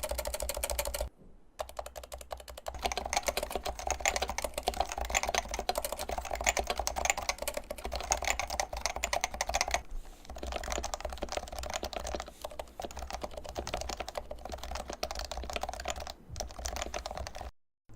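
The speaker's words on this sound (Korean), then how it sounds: "타건 느낌이 얼마나 변했는지 키보드를 쳐보겠습니다" Fast, even typing on a lubricated Topre electrostatic capacitive keyboard fills the room: a dense run of soft, muted keystrokes, up close and alone, broken by a few short pauses.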